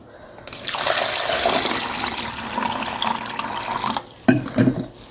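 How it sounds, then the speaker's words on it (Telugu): Water pours steadily into a small plastic glass in a steady splashing stream for several seconds, then stops, followed by a couple of brief handling knocks. "దీంట్లో నీళ్ళు పోసిన"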